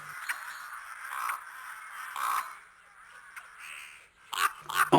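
A rook gives harsh caws, spaced out with short gaps and ending in a quicker pair of calls, fairly faint against a quiet background.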